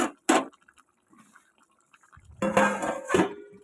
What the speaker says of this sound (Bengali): এটাকে আমি ঢেকে দেবো এখন